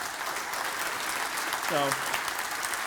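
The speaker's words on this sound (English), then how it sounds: "Can we give her a round of applause?" Round of applause from the audience at the Arbinger Summit 2019, a steady, dense clapping crowd heard at moderate distance, with a voice briefly speaking over it near the middle.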